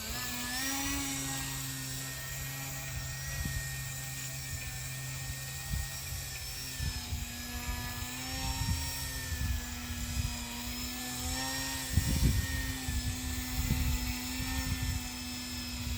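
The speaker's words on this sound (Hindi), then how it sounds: "हम इस वाले प्लेन को इस तरीके से फ्लाई करने वाले हैं और इसे हम वर्टिकल मोड बोलते हैं" An RC plane hovering in vertical mode gives a steady, loud electric motor and propeller whine with wavering pitch. The sound is close, continuous and nearly constant, with rustling and bumps underneath and no talking.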